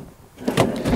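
Large kitchen drawers in a campervan slide open after a short quiet pause, giving a close, soft rolling rumble with a couple of light knocks as they run out.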